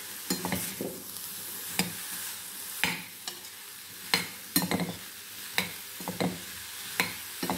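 Elephant foot yam pieces being stir-fried in a pan give off a soft sizzle, punctuated by irregular scrapes and knocks of a spatula against the pan, recorded close and fairly quiet.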